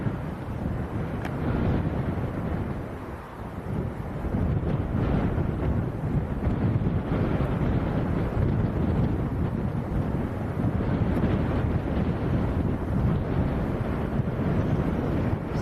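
Strong wind buffets the microphone outdoors at Leeds Bradford Airport, a constant, loud low rumble with gusty swells and no voices.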